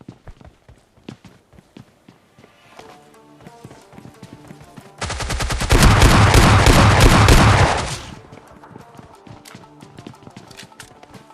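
Submachine gun fire in PUBG Mobile Lite: sharp scattered in-game clicks and shots, then a loud continuous rapid-fire burst for about three seconds before dropping back to sparse taps and footstep-like clatter.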